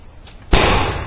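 A replica 1816 U.S. musket fires in an outdoor demonstration, making one sudden loud close blast followed by a lingering rumble.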